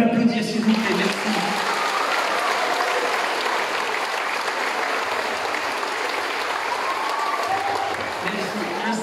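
Sustained applause from a large audience, steady and dense clapping for the whole stretch, with a few faint voices mixed in.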